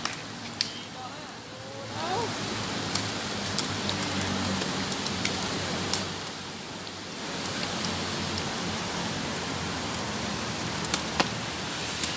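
Heavy rain pours steadily throughout at an outdoor sports court, a dense roar of drops with occasional louder splashes, while a voice talks faintly underneath.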